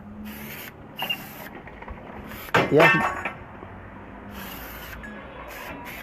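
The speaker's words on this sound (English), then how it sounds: "You hear this spray bottle?" Several short hissing bursts come from a spray bottle being squeezed, spaced irregularly at close range, while a voice is heard briefly in the middle.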